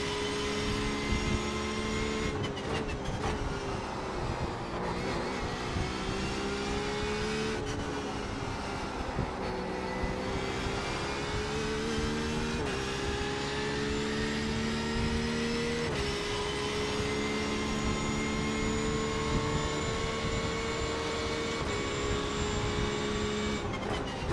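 A Porsche 911 RSR engine in the iRacing game drones and whines continuously at the Nürburgring GP circuit, pitch climbing and dropping through gear shifts, loud and steady throughout.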